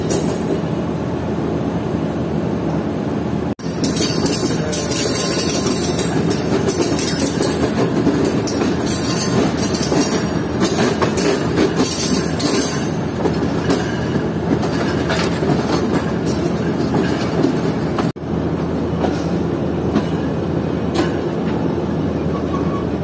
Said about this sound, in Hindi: ट्रेन को सिग्नल मिल चुका है प्लेटफॉर्म पर लगने का और ट्रेन आगे बढ़ रही है।